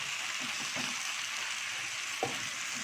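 Chicken sizzling and frying steadily in a pan while being browned for chicken haleem, a continuous close hiss with a few soft stirring scrapes and one brief clack near the end.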